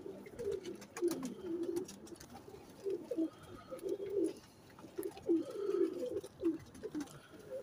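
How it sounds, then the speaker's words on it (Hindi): Soft pigeon coos repeat in low, rolling bursts from a loft of eight breeding pairs, with light fluttering and scuffling underneath, close by and moderately loud. "ये दोस्तों सारे कबूतर हैं इकट्ठे"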